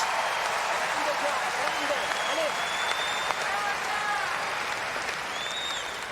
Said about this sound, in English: I'm clapping in the booth here.